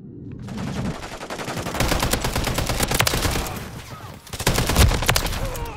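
Sustained automatic gunfire in Call of Duty rattles on almost continuously, loud and close, with a short lull before another heavy burst of shots.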